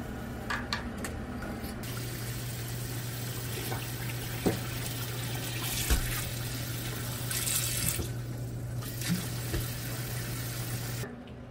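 Tap water runs steadily into a sink as food is rinsed under it, a continuous close splashing hiss with a few louder clinks and splashes, and no talking.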